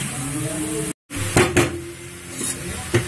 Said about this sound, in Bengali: এবার গুড় আর নারকেল কোড়ানোটাকে মিশিয়ে নিচ্ছে ভালো করে।